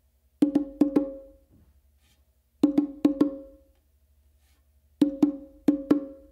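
Bongos struck with an open tone on the hembra, the larger drum, played twice in a row. Three groups of two sharp, ringing hits sound close and clear, separated by short pauses.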